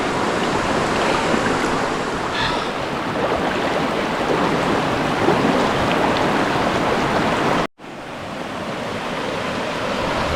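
Rushing river water at the confluence of the Genal and the Río de la Súa, a steady, loud, broadband wash that runs continuously with a brief cut near the end.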